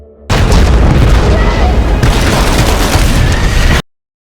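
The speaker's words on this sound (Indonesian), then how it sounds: "tepat saat para tentara mengaktifkan peledak" A loud, sustained roaring blast from soldiers detonating explosives at a bridge rumbles on for a few seconds before cutting off abruptly.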